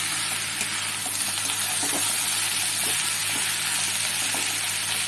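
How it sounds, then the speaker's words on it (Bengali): Water spinach fries in a pan with jackfruit seeds and potato, making a continuous close sizzle with occasional stirring scrapes and soft pops that hold steady throughout. "বেশ খানিকক্ষণ সব কিছু একসঙ্গে ভালো করে ভেজে নেব।"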